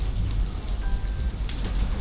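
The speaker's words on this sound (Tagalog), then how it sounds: "pabugso-bugso rin po ang ulan" Steady rain patters on surfaces on a wet afternoon at Marikina River Park beside a flood control construction site, a dense close hiss with scattered droplet ticks and no voices.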